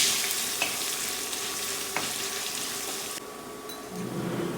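Dried chilies and five crushed garlic cloves frying in hot oil, a close, steady sizzle with a couple of faint pops, easing slightly near the end.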